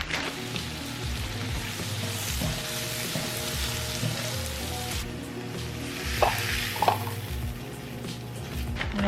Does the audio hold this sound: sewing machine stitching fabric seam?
no